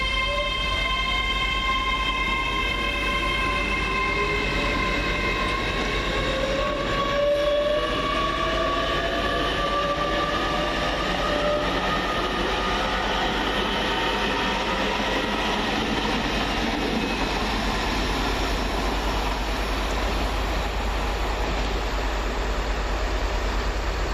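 A Great Western Railway Class 800 train on an Oxford to London Paddington service runs through at speed, a loud sustained rush and rumble with rising and falling whining tones as it passes close by, no voices.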